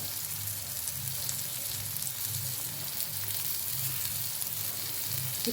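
Slices of suran (elephant foot yam) and brinjal, coated in rice flour and semolina, frying in a pan with a continuous close sizzle and a soft rhythmic bubbling pulse underneath.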